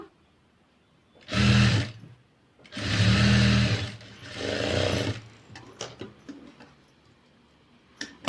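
A sewing machine stitching a princess cut blouse runs in three loud, steady bursts of rapid mechanical whirring, separated by short pauses, followed by faint handling clicks.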